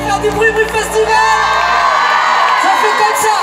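A festival crowd at a live concert in Brive cheers, whoops and shouts loudly and continuously, with music ringing over the noise.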